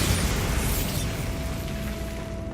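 A Bombarda spell explosion in the video game Hogwarts Legacy. It starts with a loud, broad blast and then fades into a rumbling, crackling tail with a faint ringing tone.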